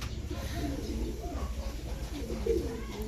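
Racing pigeons coo softly and repeatedly in a loft as birds return home from a summer training race in San Isidro, Nueva Ecija, the low cooing steady and close over light background noise.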